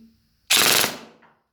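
A Bruisemaster airgun fitted with a tight-bore barrel fires once through a chronograph during barrel testing, giving a single loud, close, abrupt blast that fades over about half a second. There is no talk.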